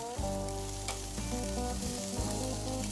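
Barbecued ribs sizzle and crackle steadily on a hot grill as they char, a close, continuous frying hiss with faint clinks of handling.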